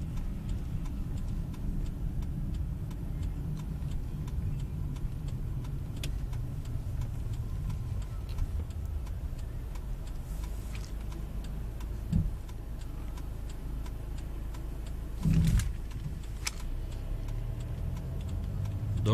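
Steady low rumble of a car driving through town, passing a traffic-light junction and a supermarket, with faint ticking like a turn indicator and a couple of brief bumps; no talking.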